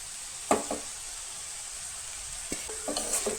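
Spinach softly sizzles in oil in a pan, with a couple of clear scraping stirs of a spatula breaking through a quiet, steady fry.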